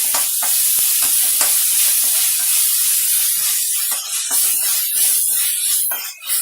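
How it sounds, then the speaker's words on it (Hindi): Onion fries with garlic, ginger and green chili paste in a pan for Punjabi dum aloo, making a loud, dense, continuous sizzle and hiss up close with occasional stirring scrapes and no talk. "अब इसमें हम लहसुन अदरक और हरी मिर्च का पेस्ट डाल देते हैं।"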